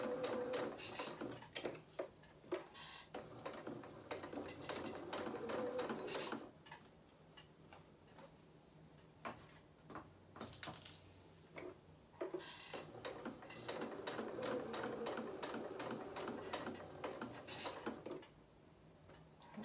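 A sewing machine stitching a small doll's angel dress, running in rapid ticking bursts that pause and restart as the work is pivoted, close and fairly quiet with no speech.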